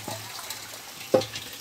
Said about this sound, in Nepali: रन्जिना तिमीलाई कस्तो लाग्दैछ यहाँ पानी भर्न आएर